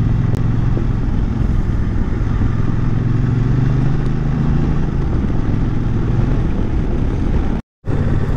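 A motorcycle rides steadily along a road in Rajasthan, its engine droning loud and close with constant wind and road rumble, no voices, and a brief dropout near the end.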